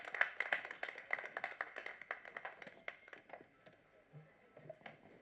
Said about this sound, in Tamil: ஒரு பலத்த கைத்தட்டல் கொடுத்து அவரை கூப்பிட்டுடலாம்